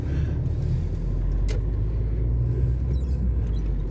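Car interior while driving on a road, a steady loud low-frequency rumble and road drone throughout, with a faint brief click midway and no talking.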